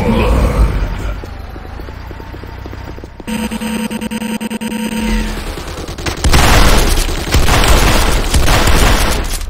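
Booming destruction of the GDI weapons factory in Renegade, a Command & Conquer shooter, with a loud deep blast, rumbling debris and humming machinery, then a second surge of crackling explosive noise, faint voice traces mixed in.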